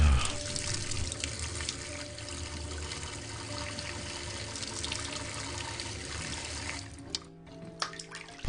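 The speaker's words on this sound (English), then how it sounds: "Let me just wash my face." A bathroom tap runs in a steady, soft stream while someone washes their face, the water flowing continuously and fairly quietly with a few small splashes near the end.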